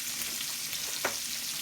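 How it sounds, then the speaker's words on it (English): Pork searing in a hot pan gives a continuous, fairly quiet broadband sizzle with a single brief sharper crackle near the middle, no voices over it. "Going to put our pork in. And now we're looking for a really good sear on that."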